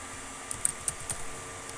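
Key presses while code is typed on a computer keyboard, about four quiet, irregular clicks in the middle of a near-silent stretch, with no voices.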